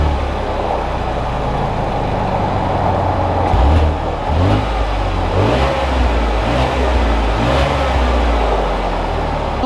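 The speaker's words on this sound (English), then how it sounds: "let's take this Blazer RS out and see how it drives" A 2021 Chevy Blazer RS SUV drives along with a steady, close engine drone and road rumble from inside the cabin. Several gear changes come through as brief pulses in the tone.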